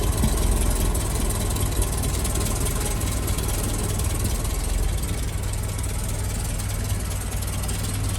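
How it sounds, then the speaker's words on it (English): The small 2A petrol engine of a Land Rover Series 2A 88-inch idles smoothly and evenly, a steady low rumble with a faint mechanical chatter that never changes pace. "Little 2A engine, actually running really nice and smoothly."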